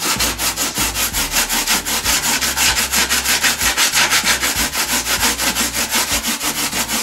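Steady, rapid rasping of a tool smoothing carved foam hills for model railroad scenery, a continuous back-and-forth scraping rhythm, loud and close with no voices.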